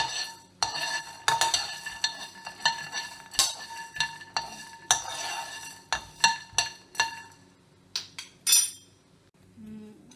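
Peanuts, coriander seeds, cinnamon, cloves and dry coconut dry-roasting in a pan without oil, heard as a run of sharp metallic clinks and scrapes from a spoon stirring, uneven and close, with quiet gaps and no talk.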